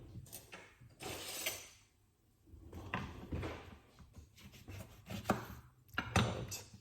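A lime rolled and rubbed between the hands, giving several soft, rough scraping and squeaking bursts close up, with quiet pauses between them.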